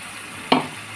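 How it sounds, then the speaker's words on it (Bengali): Spices sautéing in a pan for mutton keema ghugni make a steady low sizzle, with one brief scrape of stirring in the middle. "মশলাটা দিয়ে আমি ভালো করে কষিয়ে নিচ্ছি।"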